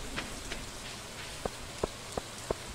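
Steady rain falls in the video game Stardew Valley, a soft, even hiss with a few scattered louder droplet taps near the end.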